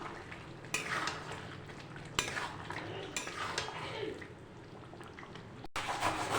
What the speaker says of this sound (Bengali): আলু দিয়ে আর কিছুক্ষণ আমি কষিয়ে নেব।